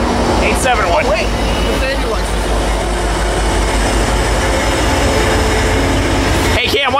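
A Metrolink passenger train rolls past close by at Fullerton with a loud, steady roar and rumble. Brief excited shouts from onlookers come near the start.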